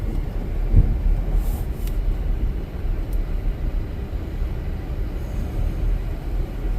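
A sanding truck drives along on a winter road, its engine and tyres making a steady, loud low rumble that stays close and continuous throughout, with no one talking.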